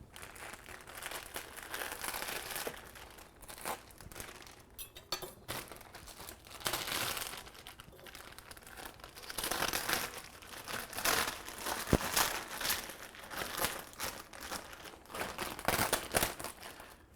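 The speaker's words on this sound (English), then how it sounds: "let's peel this membrane off and take a look" A UMAi dry-aging membrane is peeled off a 30-day dry-aged beef brisket, giving soft, close crinkling and tearing sounds in irregular bursts, quiet and with no talking.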